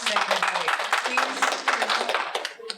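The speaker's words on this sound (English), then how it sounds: "Please don't applaud between candidates" An audience at a county clerk candidate forum in DuPage County gives a short burst of fairly close hand clapping that keeps an uneven patter before tapering off near the end.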